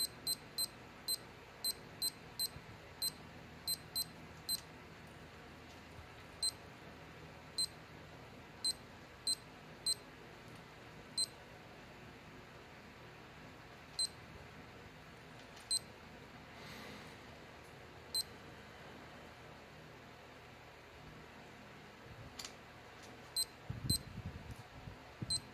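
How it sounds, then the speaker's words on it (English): An Armitron four-button digital watch alarm sounds in a run of thin, high electronic beeps, spaced irregularly over a quiet background, with a faint rustle near the end. "Then the alarm will go off right here."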